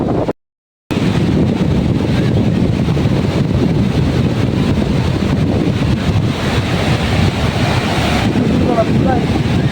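Ocean surf breaks on the shore at Kuakata beach as strong wind buffets the microphone, producing a constant loud rumbling wash after a brief dropout at the very start.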